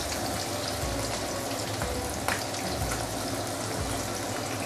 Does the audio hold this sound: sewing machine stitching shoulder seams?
no